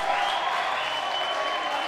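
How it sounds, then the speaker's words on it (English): Crowd at an Open Masters ultimate frisbee final cheering for a player, a steady broad roar of voices and clapping sustained evenly throughout. "Crowd's cheering for him"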